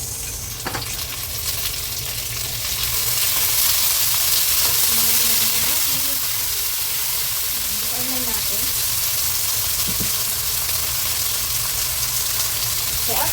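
Chopped tomatoes sautéing in a pan while cooking ginisang monggo, a steady close sizzle and hiss with occasional stirring scrapes throughout, no talking.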